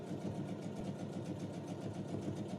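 Sewing machine set to a 2.5 construction stitch running steadily on fabric for a Santa sack, a continuous low, even mechanical hum with a fast regular rattle, close and quiet throughout.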